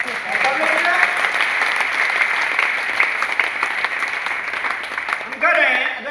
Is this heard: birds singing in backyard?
no